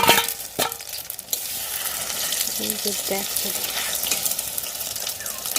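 Beaten egg sizzles steadily in a hot pan while being stirred, with scraping strokes throughout and a person speaking briefly over the frying.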